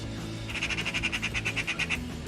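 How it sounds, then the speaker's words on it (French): Two small birds trading high, rhythmic chirping calls outdoors in a garden, a quick run of about fifteen bright notes over low background rumble. "Il y a 2 oiseaux là."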